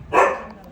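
A single short, loud dog bark, close by and alone, fading quickly into a quiet background.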